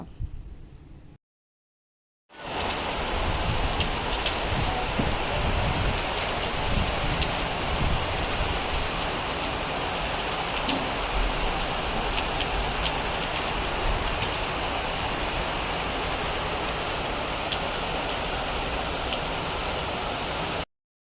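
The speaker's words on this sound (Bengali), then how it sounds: "বৃষ্টি কমার নাম নেই" Heavy rain pours down in a dense, continuous hiss that starts after a brief silent gap and stays loud and unbroken to the end.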